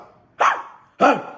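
A voice imitates a dog, giving two loud, close barks about half a second apart, each a sharp burst that quickly fades.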